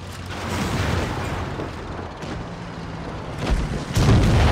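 A tank in World of Tanks Blitz takes hits and is destroyed amid a dense, rumbling wash of booms and explosions, the noise swelling into a heavier low blast near the end.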